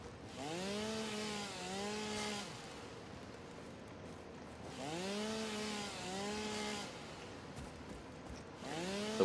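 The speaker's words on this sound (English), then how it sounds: "The worst thing about the chainsaw is hearing this over and over again is really annoying." A chainsaw cuts wood in the video game Satisfactory, its engine whine rising and falling in two long sweeping bursts separated by a brief lull, loud and steady with no talk.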